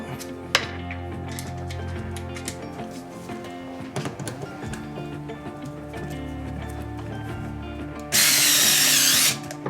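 A power screwdriver drives screws into a Lionel postwar 50 gang car during repair, with clicks and small handling knocks leading up to a loud, steady motor whir near the end.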